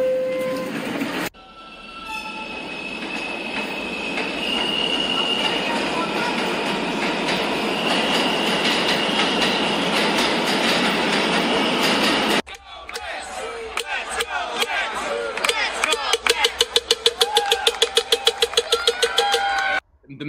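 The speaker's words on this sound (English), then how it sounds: "This is a Mets Willis Point bound 7 local train." A New York subway 7 local train bound for Mets–Willets Point rumbles and screeches loudly inside the car for several seconds, then a quieter stretch follows with rhythmic wheel clatter and other riders' voices.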